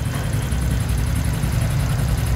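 A Honda Wave Thai 110 motorcycle engine runs at a steady idle close by, a loud, even low rumble with no other sounds over it.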